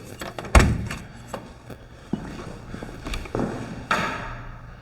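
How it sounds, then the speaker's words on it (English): Door in a newly set-up workshop, heard as a sharp thud near the start followed by scattered knocks and bumps, with footsteps and handling noises moving through the room. "Okay, and then coming through here, we got another door."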